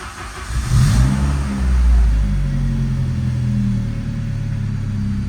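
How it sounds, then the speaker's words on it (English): A Saab 900 drives off with a low, rumbling engine note that swells as it accelerates, then settles into a steady mid-range drone heard from inside the car. "let's go take this thing for a quick drive to get some gas"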